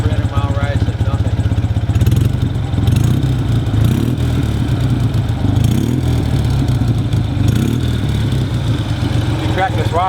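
A 1958 BMW R60 motorcycle being ridden, its engine thrumming steadily up close with throttle swells and gear changes, loud and continuous throughout.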